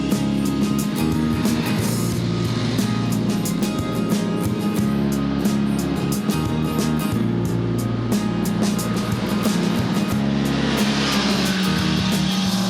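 A motorcycle rides through German forest country after leaving the Möhne reservoir, its engine a loud, steady drone mixed with wind rush that runs unbroken the whole time, with no talking.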